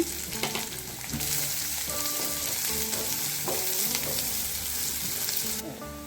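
Chopped onions fry in a hot tempering of mustard seeds, dried red chilies and curry leaves, giving a loud, steady, close sizzle with scattered spatula scrapes and clinks throughout.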